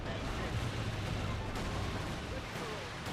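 Land Mattress rocket artillery fires volley after volley in the Company of Heroes 2 video game, with dense rumbling launches and booms building into a sustained barrage as a voice commentates over the top.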